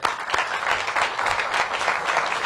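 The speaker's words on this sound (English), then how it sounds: "you can clap all you want" Audience applause fills a public event at a government headquarters, with steady dense clapping from a crowd throughout, loud and continuous.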